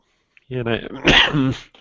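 A person coughs hard a few times in quick succession, a close, raspy throat sound with no talking.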